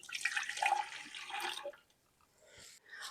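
Warm water pours into a Bosch stand mixer bowl as the first step of apple butter cinnamon swirl bread dough, a steady close splashing stream for about a second and a half before it trails off into quiet.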